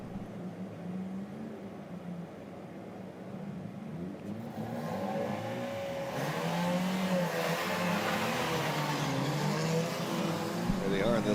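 Zetec class race cars moving through the pit lane at a circuit, engines droning and rising in pitch as they pass, with a commentator talking over the sound throughout.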